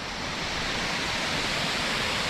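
Waterfall plunging into a pool in a small mountain gorge in the Orcières area, a loud, steady broadband roar of rushing water heard close and continuous.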